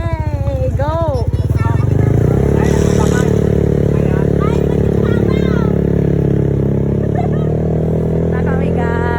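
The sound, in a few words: motorcycle engine riding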